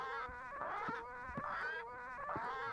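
Parrots in Return to Monkey Island give a string of squawks and chattering cries, four or five loud nasal bursts in uneven rhythm, close and clear with no talk over them.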